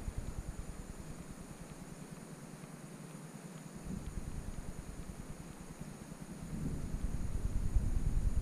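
Faint, steady wind rushes past a microphone beside a reservoir lake while someone fishes for wolf fish, a low constant blowing noise with no speech.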